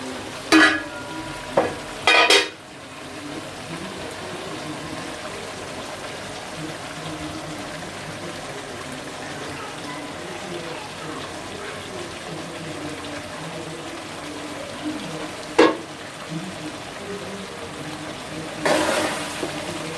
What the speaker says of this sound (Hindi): अच्छे से मिक्स कर लेंगे इसको हम।